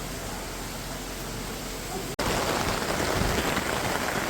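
Heavy monsoon rain pours down in a dense, steady hiss, with a brief break halfway through before the downpour roars back louder and closer.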